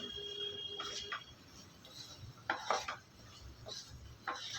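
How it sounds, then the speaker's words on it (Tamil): A spoon stirs squid fry masala sprinkled with coriander in a pan on a switched-off stove, giving soft intermittent scrapes and clinks of metal against the pan, several short bursts spread over a few seconds in a quiet kitchen. "கொஞ்சோண்டு மேலே கொத்தமல்லி தூவிட்டு கிண்டி விட்டுடலாம்"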